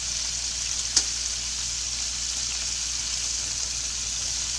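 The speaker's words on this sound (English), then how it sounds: "We just want to sear these on all sides, so we are going to be turning them as we go." Chunks of beef sear in a hot pan, giving a steady bright sizzle and crackle throughout, with one sharp clack early on as a piece is turned.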